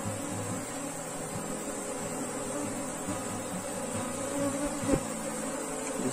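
Honeybees buzz steadily around an open hive while the queen is being marked after a colony split, a dense continuous drone with a brief thump near the end.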